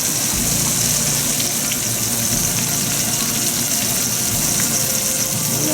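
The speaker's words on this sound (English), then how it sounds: "We'll add the cold stock here." Cold stock being poured into a duck and sesame stir fry in a hot pan, a loud, steady, close rush of liquid and sizzle that runs unbroken throughout.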